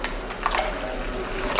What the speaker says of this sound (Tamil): இப்போ இதில் கொஞ்சமாக தண்ணி கலந்துடலாம்.